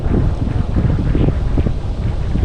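Strong wind buffets an outdoor microphone during tilapia fishing by the water, a steady loud roar with gusty swells throughout, and no voices.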